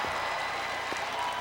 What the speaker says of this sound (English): The applause for Margot Didek,